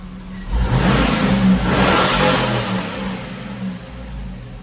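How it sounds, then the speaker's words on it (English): A 2006 Chevrolet Suburban LTZ with a 6.0 V8 idles, then its engine revs up loudly with a deep exhaust roar, holds and sweeps through a couple of throttle blips before settling back toward a low rumble, heard close with no talking. "Exhaust on the other side, but you're gonna hear it."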